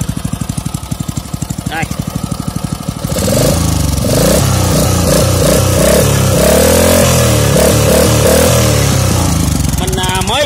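A Kubota GS150 engine chugs with a steady rapid knock, then revs up into a louder, continuous running drone with wavering pitch; someone speaks briefly near the start.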